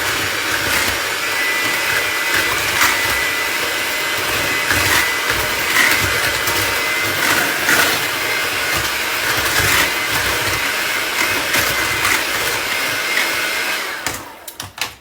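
An electric mixer whirs loudly and steadily through pudding mix and milk for a strawberry cake, a constant motor drone with slight wobbles in pitch before it cuts off near the end.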